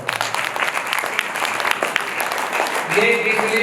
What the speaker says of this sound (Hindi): आप सब अपने लिए जोरदार ताली बजाओ।